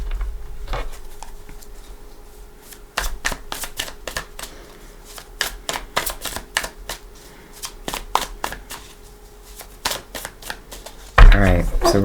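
Tarot cards are shuffled by hand in a fast run of sharp, closely spaced riffling clicks, loud and near, with a brief pause and a final clatter, while a voice is faintly present.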